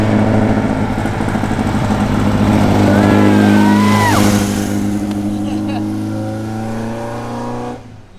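An off-road rally race car in the Norra 500 drives toward the finish line with a loud, sustained engine drone and strong tonal hum that holds steady, then fades near the end.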